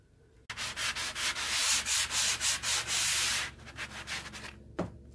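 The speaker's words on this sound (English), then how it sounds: "So the plasterboard itself with a sanding block is easy enough to rub down." A sanding block rubbing down plasterboard: a steady run of close, rhythmic scraping strokes, with a brief knock near the end.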